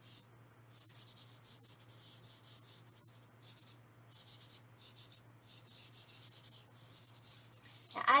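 Chalk pastel is blended by hand on paper while drawing, producing soft, close rubbing strokes in quick bursts with short pauses between them, faint and alone over a low steady hum.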